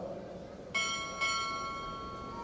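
Two quick strikes on a ship's bell ring out during a Navy chief petty officer pinning ceremony, each clear metallic clang leaving a long shimmering decay over a hushed room.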